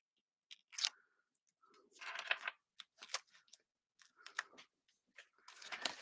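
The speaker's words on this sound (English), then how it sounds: "I'm just going to actually take a longer piece, trim it" A longer piece of craft material is trimmed with a series of short, crisp snips and rustles, spaced irregularly and heard close up in an otherwise quiet room.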